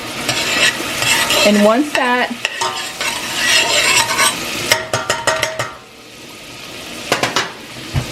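Garlic cooking down in about two tablespoons of butter in a pan for a cream sauce: steady sizzling with a utensil stirring and scraping against the pan, sharp clinks of metal near the end, and a brief spoken word.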